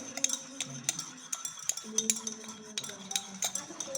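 A spoon clinks and scrapes around a bowl while spreading a thick soap mixture, light repeated metallic taps close up, with a person speaking quietly underneath.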